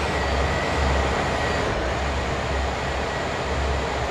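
Continuous broadband rumble of a CSX heavy-haul freight train with EMD SD40-2 locomotives running in the Train Sim World video game, a steady loud roar with rhythmic low pulsing and no voices.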